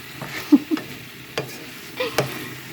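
Vegetables being stirred in a cooking pan, a few soft scrapes and clacks of a utensil over a faint frying sizzle, close and brief.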